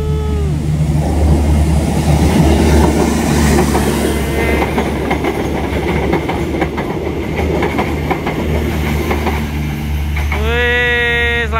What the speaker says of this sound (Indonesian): Wih, keretanya bagus banget guys. KAI. Ini mau berangkat ke Jogja ya.